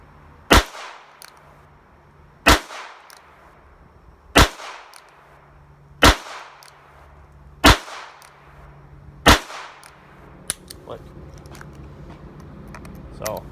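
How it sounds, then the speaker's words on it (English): A revolver fires Winchester Super X ammunition in six loud, sharp shots spaced about two seconds apart, each with a ringing decay, followed by fainter clicks and handling noises. "I have some Winchester Super X that I'm going to shoot."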